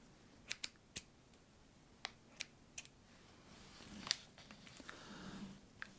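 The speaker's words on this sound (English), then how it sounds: "Here are the scissors." Scattered sharp snips and clicks of scissors, a few isolated cuts spaced irregularly, quiet and close against a soft background hiss.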